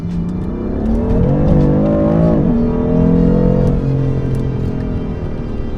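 A BMW M4 is floored in second gear on good tarmac with traction control off, its engine note rising loud and close, dipping at a brief shift-like break, then climbing again as it pulls hard.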